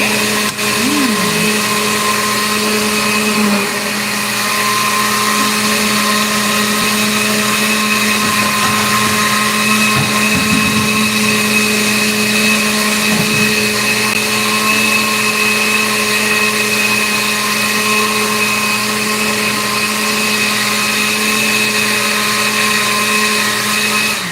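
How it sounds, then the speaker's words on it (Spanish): A blender grinds green chiles for salsa verde, running as one loud, steady, high-pitched whir that holds unbroken for the full stretch with no talking. "estoy checando, chicos, que sí esté moliendo bien todos los chiles y que no me vayan a quedar pedacitos de cáscara"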